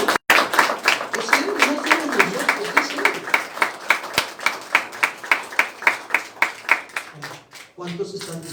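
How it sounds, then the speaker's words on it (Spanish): Rhythmic group clapping at a Sunday church service, steady and even like a beat, continues for several seconds with speech mixed in, then fades as talking resumes. "¿Cuántos le dan un aplauso al Señor, hermano?"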